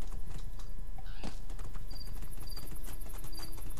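Horse hoofbeats from riding in the video game Two Worlds 2, a rhythmic clip-clop at moderate volume with a brief whinny-like sound, no talk.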